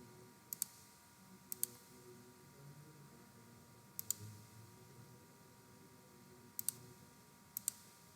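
Computer mouse clicks come in quick double pairs, several spaced a few seconds apart, crisp and faint over a low steady room hum, with no talking.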